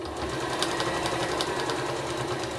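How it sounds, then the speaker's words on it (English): Sewing machine stitching a patchwork seam through quilt wadding, a steady, close, continuous mechanical whirr with rapid even needle clatter throughout. "sew down that seam through the wadding"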